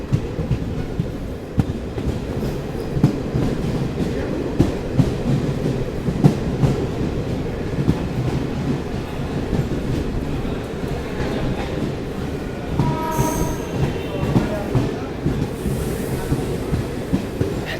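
The Ajmer–Chandigarh Garib Rath express runs along the tracks, a continuous rumble with steady, rhythmic wheel clacks heard close from on board, without talk.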